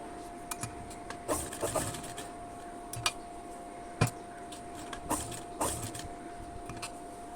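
Sewing machine stitching the curved neckline of a kurti, running in short bursts with pauses as the fabric is turned, a steady mechanical whir under sharp ticking clicks.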